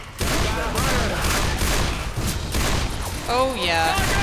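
Rapid bursts of gunfire in a shooter video game rattle close and loud, volleys overlapping in a busy stretch with a brief sliding tone near the end.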